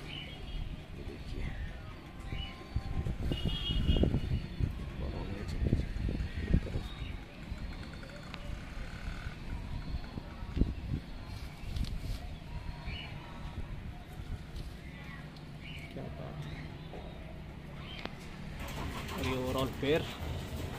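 A female high flyer pigeon, a large spotted hen, coos in low repeated murmurs close by, mixed with other pigeon sounds and rustling, while someone talks over much of it.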